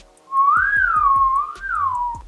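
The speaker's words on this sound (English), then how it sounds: "Can you whistle? As of last September, yes" A person whistles a clear, sliding tune alone, the pitch rising and falling smoothly over about two seconds, with soft low thumps pulsing steadily underneath.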